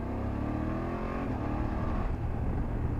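A BMW F800GS motorcycle accelerates while being ridden, its engine note climbing under dense, steady wind roar, loud and continuous.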